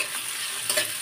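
Bay leaves and chopped onion fry in oil in a pan, a brief, close, steady sizzle with a light crackle.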